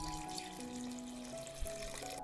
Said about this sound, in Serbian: I sipam hladnu vodu do visine poklopca.